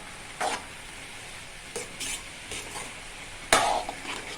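A spoon stirs papaya thoran with salt in a pan, giving a few soft scraping strokes over a faint steady sizzle, with no talking.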